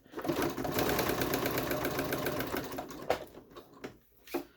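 A sewing machine runs in a steady, fast stitching burst while sewing a zippered taco bag, then stops, leaving a few brief handling clunks and rustles close by.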